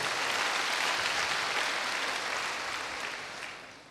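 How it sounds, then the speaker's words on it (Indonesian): A church congregation breaks into dense, hissing applause during a sermon, a full wash of many hands clapping at once that holds steady and then fades out over the last second. "tepuk tangannya paling meriah buat Allah kita"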